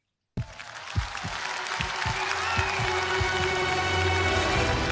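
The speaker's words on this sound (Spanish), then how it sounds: "la gente es que no se puede contener y aplaude" Concert audience applauding during a pause in a live performance of a song, a broad steady wash of clapping that starts abruptly and swells slightly, with a few sharper claps near the front.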